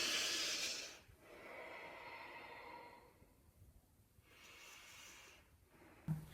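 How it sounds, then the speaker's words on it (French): Slow, audible breaths during a pause in a standing exercise routine, a few long airy inhales and exhales in a regular rhythm, close and quiet, ending with a brief soft thump. "quelques secondes de respiration."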